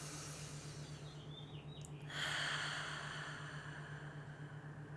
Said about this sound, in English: Audible inhale and an audible exhale.